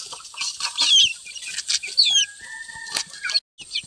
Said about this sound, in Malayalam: ഇതാക്കുന്ന മഞ്ഞക്കാലുള്ള കോഴിക്കുഞ്ഞുങ്ങളൊക്കെ ഉണ്ട് കേട്ടോ